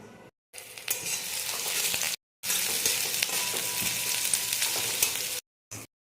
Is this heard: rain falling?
no